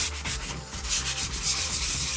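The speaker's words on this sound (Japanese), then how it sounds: "400番のね、サンドペーパーで表面を磨いていきます" A varnished 1/32 plastic F-35A model surface is rubbed with 400-grit sandpaper, making a close, continuous rasping scrub in quick repeated strokes.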